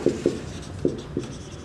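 Marker or chalk strokes on a classroom board during an accounting lesson: four short, distinct scratchy taps in an uneven rhythm, close and moderately loud, with no talk.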